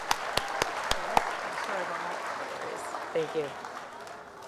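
Applause from a school junior assembly audience, a steady crowd clapping that fades over several seconds, with sharp knocks near the start and a voice speaking over the tail end.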